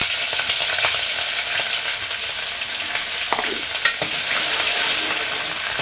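Spice paste frying in hot oil with cloves, bay leaves and chili for a dhaba-style chicken biryani, a steady loud sizzle broken by a few sharp stirring scrapes, with no talk.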